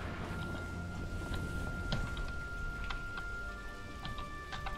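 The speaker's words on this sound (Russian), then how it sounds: "Вода льется, господи, дождь на улице." Steady rain patters in the video game Sniper Elite V2 Remastered, a continuous hiss of drops with scattered ticks over a low rumbling backdrop, moderately quiet.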